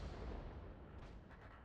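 A tank cannon fires at a helicopter in a video game, a faint low boom with a rumbling tail that fades over under two seconds, with no voices.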